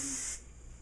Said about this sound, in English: And then I'm going to do some spray action